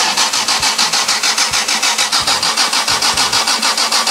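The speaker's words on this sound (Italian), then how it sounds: "adesso farà girare il motore, ovviamente non deve partire." A 900 hp Toyota Supra engine spins on its starter without firing, making a loud, close, steady cranking chug with evenly spaced rhythmic pulses throughout and no voices.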